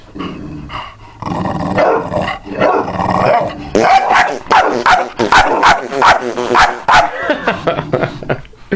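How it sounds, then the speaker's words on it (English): A dog barks and growls in short, irregular bursts close by, with yips and whimpers between them. "Dozer, you're just barking at me"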